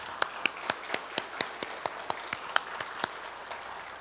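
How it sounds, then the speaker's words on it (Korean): A church congregation applauds the choir at a year-end Sunday service, soft and fairly distant, with evenly spaced claps rising above a faint wash of hand noise. "우리 귀한 찬양대, 우리 이들에게 큰 감사와 격려의 박수 부탁드리겠습니다"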